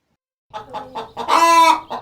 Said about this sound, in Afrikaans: Hoender.